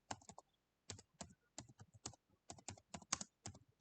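Someone types a prompt on a computer keyboard: quiet, close keystrokes in short irregular bursts separated by brief pauses.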